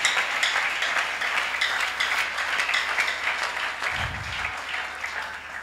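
Church congregation at a worship service applauding steadily, a dense, sustained wash of many hands clapping that fills the room for several seconds, with a brief low thump partway through.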